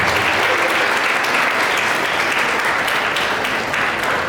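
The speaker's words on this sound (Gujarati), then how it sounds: "તાળી બંને હાથથી વગાડો." An audience at a Women's Day celebration organised by a women's association in Rajkot claps with both hands, a dense, steady roar of applause that holds at full strength throughout.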